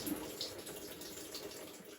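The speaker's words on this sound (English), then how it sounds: "I'm going to go to drain and spin" A GE washing machine drains water during its drain and spin cycle, giving a steady, moderately faint rushing of flowing water that continues without a break.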